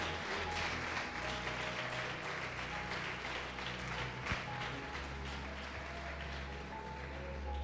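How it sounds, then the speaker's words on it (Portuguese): A church congregation applauding to glorify God during a sermon, a dense, sustained round of clapping from many hands that holds steady throughout. "Pode aplaudir, glorificar a Deus por isso."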